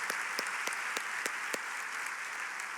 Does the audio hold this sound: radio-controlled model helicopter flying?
no